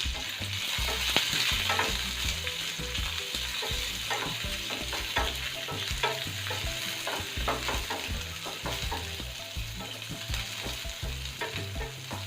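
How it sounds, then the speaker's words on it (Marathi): Garlic and medium onion petals frying in a pan for spicy soya chilli, a steady sizzle with frequent scraping stirs and clinks throughout, close and moderately loud with no voices. "लसूण थोडासा लालसर झाला की आपण त्यात कांदा घालणार आहोत."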